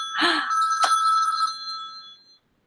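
A telephone rings once in a bright, ringing electronic tone that rises sharply and then decays slowly into silence.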